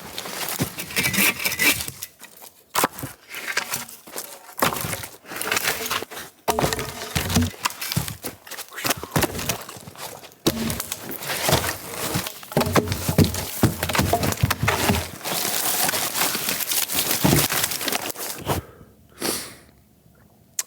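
Firewood logs snapping, splintering and thudding as they are broken and handled outdoors on a winter night, a dense run of close, loud woody cracks and knocks with short pauses and no talking.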